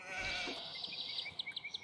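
Sheep in the video game Age of Empires II bleat in a short run of quick, wavering calls, the last few clipped and rhythmic, fairly faint.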